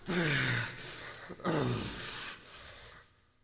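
A man gasps sharply on waking from a nightmare, with two or three ragged, heaving breaths close up, each drawn in hard and then tapering into shaky panting.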